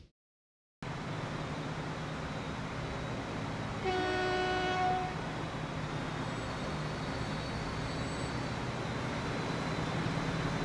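A freight train rolls past continuously through a Transport Fever rail network on a U.S. map, with a loud, sustained horn blast of stacked tones around the middle, then steady rumbling resumes.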